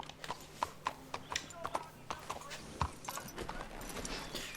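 Hooves of a horse clop steadily on cobblestone street in Red Dead Redemption 2, a regular series of sharp, close knocks with town ambience and faint voices underneath.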